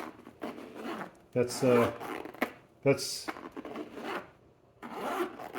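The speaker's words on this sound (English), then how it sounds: "it does zip up a lot easier" A zipper on a bike frame pack is pulled in several quick rasping strokes, close and fairly loud. A voice speaks briefly between the pulls.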